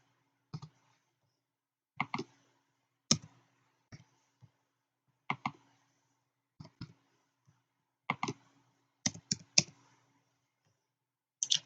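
Card details are typed on a computer keyboard in scattered, sharp clicks and short bursts of keystrokes with quiet gaps between, close and fairly faint.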